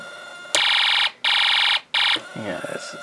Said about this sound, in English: this alarm IC I have is damaged